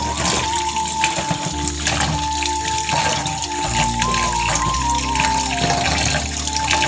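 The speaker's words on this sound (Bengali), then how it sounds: "এখন শুটকিগুলো আমি ভালো করে ধুয়ে পরিষ্কার" Dried fish being rinsed clean under a steady, loud stream of running water, splashing continuously for the whole stretch with no voices.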